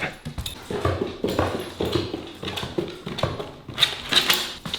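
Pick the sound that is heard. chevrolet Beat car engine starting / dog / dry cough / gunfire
dog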